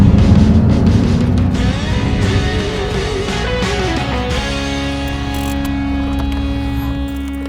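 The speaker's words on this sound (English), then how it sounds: "That's the sound of Ford's first new V8 in almost a decade." Ford's 1991 EB Falcon V8 runs at a loud, steady idle, a sustained humming drone with a shifting tone partway through, heard up close with nobody speaking.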